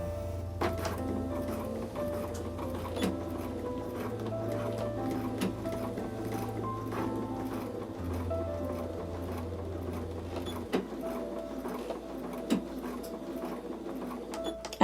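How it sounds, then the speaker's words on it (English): A domestic sewing machine back-stitching across elastic on a fabric face mask, its motor running in a steady buzzing drone with short pauses and changes in speed, punctuated by faint clicks, with no talking. "I'm just going to do a back stitch across the elastic, and I'm going to do a back stitch before I finish at the opening"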